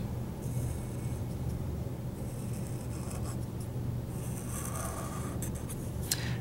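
A pen drawing a solid line on a paper graph, a soft continuous scraping in several stretches over a steady background hum, close but faint, with no talk.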